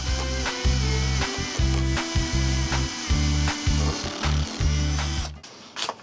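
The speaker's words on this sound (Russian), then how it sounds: "И по периметру этого барабана на стыке насверлю отверстий." A power drill whines in repeated short bursts while drilling holes around a washing machine drum, starting and stopping about ten times in quick succession, loud and close, then cuts off.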